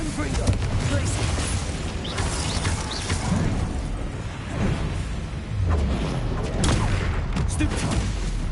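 Spell effects from combat in Hogwarts Legacy: bursts, blasts and crackling impacts follow one another in dense succession, loud and close, with voices shouting spell names over the fight.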